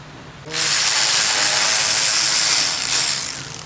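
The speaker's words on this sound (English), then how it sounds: "Loosen up the oil filter housing, 32 millimeter." A ratchet spins hard and fast, loosening the 32 mm oil filter housing on a 2018 Volkswagen GTI; the close, loud metallic whirr starts abruptly and runs for about three seconds before easing off.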